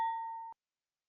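A single bright notification bell ding rings out cleanly, holding a sustained tone for about half a second before cutting off to silence.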